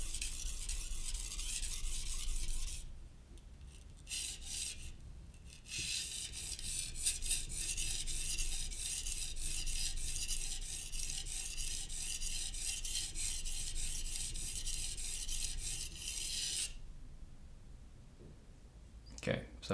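A kitchen knife is drawn across the center of a wet whetstone, giving a steady, close gritty rasp in long continuous passes with brief pauses between strokes.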